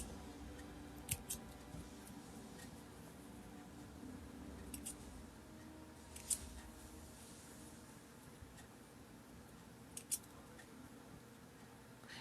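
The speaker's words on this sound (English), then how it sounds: "Alright, so I'm just going to cut all these little loose threads." Small scissors snip loose fabric threads on a sewing project, a few faint, sparse clicks and snips spread over a quiet room hum with no talking.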